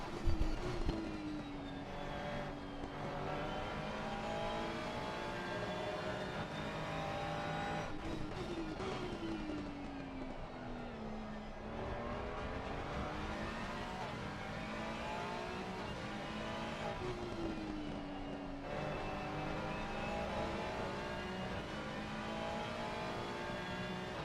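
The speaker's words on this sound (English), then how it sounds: "Here's a lap with on Brands Hatch with Idodo" Onboard a race car lapping Brands Hatch, a loud continuous engine note that climbs and drops through the gears as it accelerates and brakes for corners, with no talk over it.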